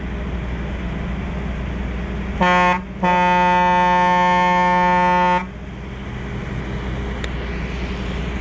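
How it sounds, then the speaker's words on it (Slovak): A loud air pressure horn blasts nearby, a brief toot, a short gap, then one long steady honk of about two and a half seconds over faint outdoor background noise. "Takže toto bola naša tlaková trúba. Výborne nám to trúbi."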